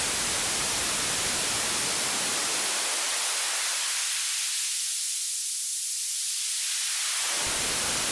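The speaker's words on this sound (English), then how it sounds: "this high-end, kind of soft, pleasing kind of hiss, really." A continuous synthesized white-noise hiss whose filter sweeps down, dulling to a low rumble, then opens back up to a bright, airy hiss.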